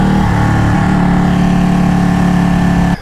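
The engine of a Ducati Panigale 1199 S superbike revs hard and close, a loud sustained growl with rising pitch and steady tone before it cuts off abruptly at the end.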